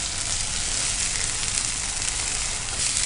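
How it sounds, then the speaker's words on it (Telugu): Ginger garlic paste, green chillies and onions frying in a pan, giving a steady loud sizzle that holds evenly throughout with no talking. "ginger garlic paste green chillies onions ఎక్కువగా ఫ్రై చేసుకుంటున్నాము"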